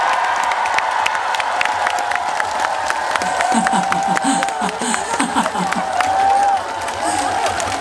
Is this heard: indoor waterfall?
no